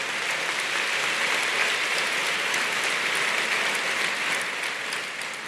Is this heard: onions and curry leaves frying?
no